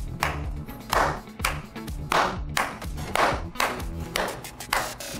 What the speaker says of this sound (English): I want you to clap, produce sound